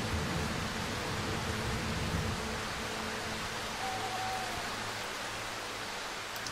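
Continuous rain in the video game Darkwood makes a uniform rushing hiss, fairly soft and unbroken, with a faint brief tonal whine partway through.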